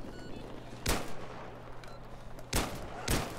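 Pistol shots in Battlefield 3 on the Operation Metro map: three sharp, loud cracks, one early and then a quick pair near the end, over quiet background game ambience.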